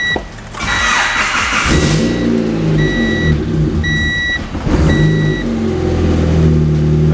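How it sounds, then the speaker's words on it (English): A boosted Honda engine fitted with a new ECU cranks and catches, then settles into a loud, close, rumbling idle with a few steady beeping tones over it. "so it started with the new ECU"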